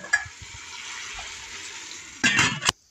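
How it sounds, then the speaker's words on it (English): Collard greens and chorizo simmer in a pot with a steady, soft bubbling hiss, broken near the end by a short, louder burst of stirring and pot clatter; no one talks. "While the collards are simmering"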